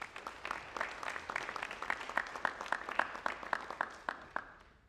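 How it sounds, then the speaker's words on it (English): An audience at a National Honor Society induction ceremony claps in steady, moderately loud applause with crisp individual claps, continuing for several seconds and then tapering off at the end. "want to give you all a round of applause"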